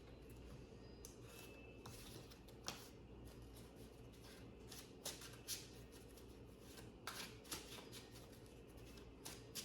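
Quiet, repeated riffling and soft slaps of playing cards being shuffled close by, in short irregular bursts with no talking.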